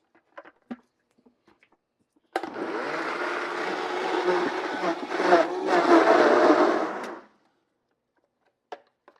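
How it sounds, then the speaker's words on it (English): A Vitamix blender whirs at high speed through a sauce of salt, sugar, lemon juice and heavy cream, a steady roar of about five seconds set between faint kitchen clatter. "This is why I love my Vitamix."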